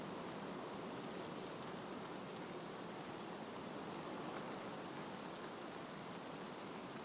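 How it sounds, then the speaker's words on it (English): Steady rain pouring down in an even, unbroken hiss of drops on surfaces, fairly quiet and constant throughout with no voices. "I wish it had stopped raining so I could hear the best."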